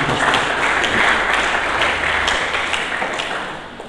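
A church congregation applauds during a sermon, a dense, steady wash of many hands clapping together that holds strong throughout and eases slightly toward the end.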